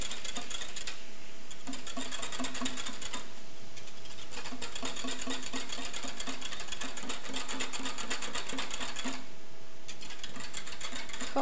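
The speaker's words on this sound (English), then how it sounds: "give this a whisk." A coconut and blackberry soda drink being whisked, a fast continuous rattling whir close by that stops briefly twice before starting again.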